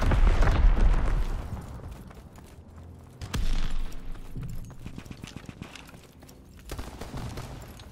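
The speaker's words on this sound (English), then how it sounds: "Enemy mortar fire incoming!" Incoming enemy mortar fire in a WW2 video game, heavy booming explosions and rumbling impacts, one loud at the start and more following amid a continuous battle din.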